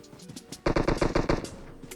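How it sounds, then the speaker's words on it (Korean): A burst of rapid automatic gunfire in a video game, about a dozen sharp shots in quick succession, loud and close, with quieter distant pops around it. "총소리 들린다."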